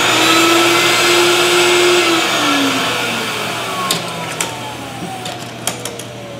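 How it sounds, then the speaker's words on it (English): A thermoforming machine's vacuum pump switched on while forming a thin plastic sheet, a loud steady whooshing roar with a falling whine, followed by a few sharp clicks and snaps near the end. "Flip this over, close the seal, and hit the vacuum switch."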